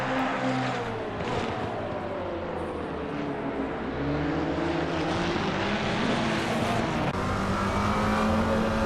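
GT4 race cars lap the Misano circuit in Assetto Corsa Competizione, several engines droning and revving together in a continuous, steady roar with rising and falling pitch as they pass, close and loud.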